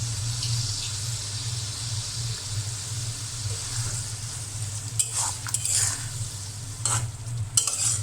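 Pabda fish coated in salt and turmeric sizzles steadily in spiced oil, a continuous frying hiss with a few louder crackles and stirring scrapes toward the end.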